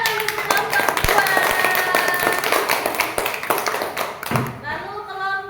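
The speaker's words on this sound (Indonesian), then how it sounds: "tepuk tangan untuk kelompok 2" A classroom group claps for another group after a lesson on life cycles, with sharp, uneven hand claps close by and a voice talking over them, and the clapping fades out near the end.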